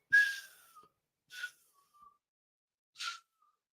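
A person imitates a whistling S sound, giving three brief airy hissing whistles spaced apart, the first with a sliding tonal whistle, alone and fairly quiet.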